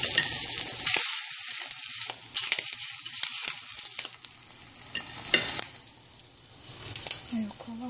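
Round slices of Canadian bacon frying in a pan, a loud close crackling sizzle with bursts of spattering and occasional scraping of a utensil, continuous throughout.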